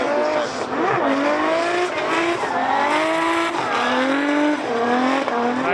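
A Toyota JZX100 Chaser drift car at Fuji Speedway during Formula Drift Japan qualifying, its engine screaming and rising under hard throttle while the tires squeal continuously through the slide, loud and close.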